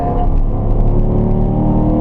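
A race car on track at the Ron Fellows driving school in Nevada accelerates hard with a loud, steady engine roar and rising tone as it shifts up toward fourth gear, with no voices.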